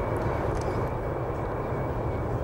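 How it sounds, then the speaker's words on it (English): Airbus A380 airliner flying on alternative semi-biofuel over the Airbus plant in Filton near Bristol, a steady broad jet roar that stays constant and fairly loud throughout. "Plane there heading into the blue skies above the test plant, the Airbus plant in Filton near Bristol"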